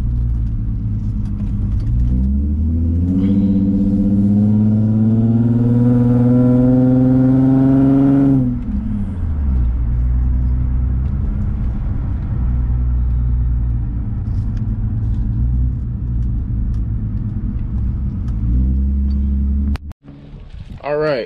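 Infiniti G35 driving with a steady low engine rumble, a rising rev as it accelerates from about three to eight seconds, then settling into an even cruising drone close to the microphone.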